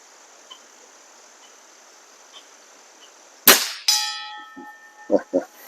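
Weihrauch HW35E air rifle firing at 25 yards: a single sharp crack followed a beat later by a bright metallic ring from the struck metal target, then a couple of soft knocks, over a quiet outdoor hiss with faint insects.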